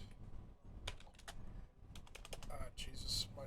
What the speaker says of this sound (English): my typing is terrible